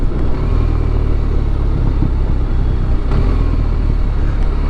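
A 2023 BMW R1250RT motorcycle's engine runs under load during a ride, a loud steady mid-pitched drone with brief dips and rises as the quickshifter blipper changes gears without the clutch, mixed with wind rush.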